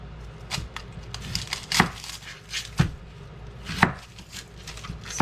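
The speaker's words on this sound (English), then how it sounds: "We want to chop this up into about the same size pieces" An onion chopped with a knife on a cutting board: sharp, close knocks of the blade land at an irregular pace, about one or two a second, with quieter slicing strokes between them and no talk.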